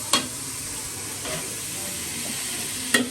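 Spice masala sautéing in a pan for Bangladeshi chicken biryani, a steady low sizzle and hiss with a couple of sharp stirring scrapes near the start and end, no talking.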